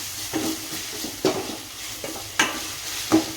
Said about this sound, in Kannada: ಈಗ ನಾನು ಅಷ್ಟನ್ನು ಹಾಕಿ ಇದನ್ನು ಚೆನ್ನಾಗಿ ಫ್ರೈ ಮಾಡ್ಕೊಂಡ್ರಿ.